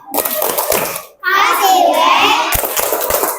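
Children clap in a classroom ice-breaker, a quick rhythmic clapping game mixed with their chanting voices, close and lively in an indoor room.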